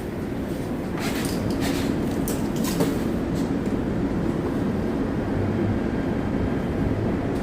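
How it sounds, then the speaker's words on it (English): Los Angeles Metro E Line train running, a steady broadband rumble and rolling roar throughout at constant loudness, with faint brief squeals and clatter early on. "Nice, clean, unsmelly train."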